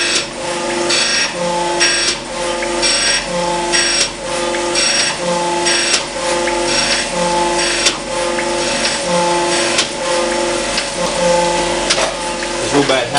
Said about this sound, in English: when you put something on the grinder off the mill